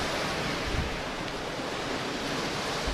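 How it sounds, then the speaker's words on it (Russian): Sea waves washing steadily over a beach of small pebbles in Crimea, a continuous broad rushing surf at fairly close range with no voices. "Море немножко сегодня волнуется."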